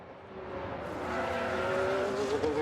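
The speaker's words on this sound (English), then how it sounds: "They've spun their car." An Alfa Romeo Formula 1 car spins out in F1 Manager 2022, its engine whining and rising in pitch as the tyres squeal and skid, loud and close with no other sounds.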